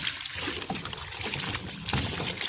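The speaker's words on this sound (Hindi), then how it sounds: "अब ये देखिए, ये मैं इसके अंदर पानी डाल दूँगी।" Water is poured into soil in a pot for growing fenugreek, a close, continuous splashing trickle with small uneven surges and gurgles, heard alone.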